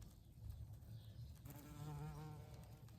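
An Asian hornet buzzes faintly, its drone rising and wavering as it passes close for a moment against a quiet outdoor background in Hostens, Gironde, France.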